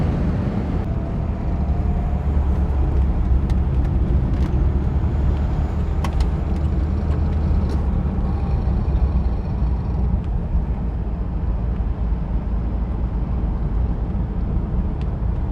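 The rotary engine of an NSU Ro80 car gives a loud, steady, low drone heard from inside the car, running at a high idle of about 2000 RPM without letting up. No one talks.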